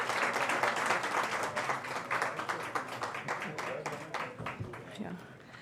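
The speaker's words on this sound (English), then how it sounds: "Can we have another round of applause," Moderately loud audience clapping for panelists at a business panel event, a steady patter of individual claps with some voices underneath.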